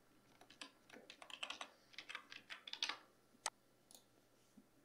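Quick, faint run of keystrokes on a computer keyboard as a password is typed, a dozen or so soft clicks in an uneven burst, with a final isolated click or two.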